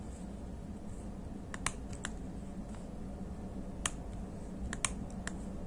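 Computer keyboard typing while writing jQuery code, with sparse, quiet key clicks in small clusters and single taps over a low background hum, no talking.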